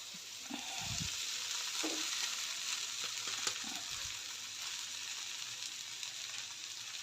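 Kanda poha being mixed in a pan with onion, sugar, lemon juice and salt, a soft continuous sizzle with a few scraping spatula strokes early on, then a steady hiss alone.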